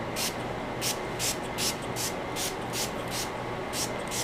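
Repeated short hissing bursts of a water spray bottle, about a dozen in quick succession, fired while ironing on a 1940s ironing board over a steady background hum.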